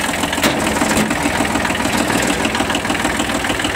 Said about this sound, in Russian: Двигатель без подтеков, работает ровно